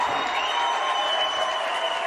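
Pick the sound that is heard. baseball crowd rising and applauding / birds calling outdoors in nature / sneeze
baseball crowd rising and applauding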